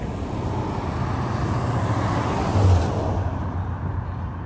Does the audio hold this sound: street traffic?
yes